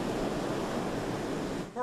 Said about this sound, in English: Hurricane Matthew strikes Kingston, Jamaica as strong waves crash the coast